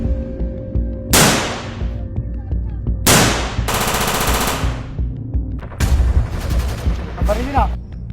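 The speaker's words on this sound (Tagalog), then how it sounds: "Ang baril yun ah." Gunfire in a staged police operation by criminology students: loud broadband bursts near 1 s and 3 s, a sustained rapid volley around 3.5–5 s, then more clustered shots after 6 s, with shouted voices mixed in.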